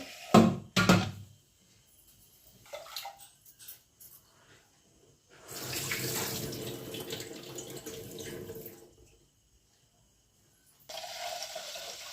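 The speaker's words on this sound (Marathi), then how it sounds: "तवली भरून घेतली की सतत पाण्याकडे जावं लागत नाही" Tap water runs into a large cooking pot in a home kitchen, with a few knocks and clatters first, then a sustained stream gushing for several seconds, a pause, and the flow starting again.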